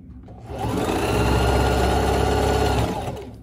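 A sewing machine runs steadily while stitching trim onto tie-side shorts, a loud continuous motor whir with rapid needle clatter that starts up, holds for a few seconds, then winds down.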